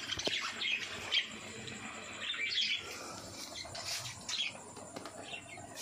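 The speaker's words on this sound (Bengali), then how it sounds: "আর এখানে আছে পাখি যে ডিম দিয়েছে" Caged birds, among them a hen that has laid eggs, give faint scattered chirps, squawks and brief wing flutters throughout, with no voices.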